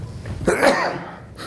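A single short sneeze or cough-like burst from a person during a zoning board meeting, close and abrupt, with a faint trailing breath and no talk over it.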